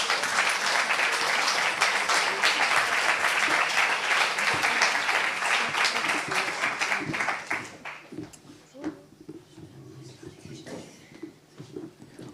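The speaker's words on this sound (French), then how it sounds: "On peut les applaudir aussi." An audience applauds people invited onto a stage, a dense, loud round of clapping that fades out after about eight seconds, leaving quiet room noise and faint talk.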